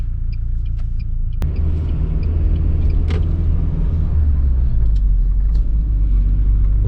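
A UAZ Patriot driving along a road on the way home, its steady low engine and tyre rumble continuous and close throughout, with a brief sharp click near the start and no speech.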